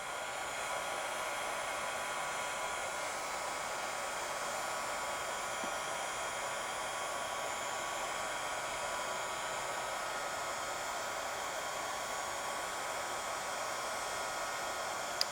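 A heat gun blows steadily over bubbles in resin, a continuous close-up whooshing hiss with a constant level throughout and no pauses.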